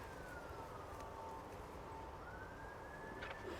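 Police-style sirens wail faintly in the distance, a thin rising and falling tone drifting over steady outdoor background noise.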